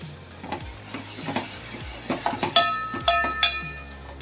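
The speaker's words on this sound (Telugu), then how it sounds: "టొమాటో వేసి ఫ్రై చేసుకోవాలి" Chopped tomato pieces sizzle in a hot pan with turmeric, joined by scraping stirs and sharp metallic clinks of a spoon against the pan that grow louder toward the end.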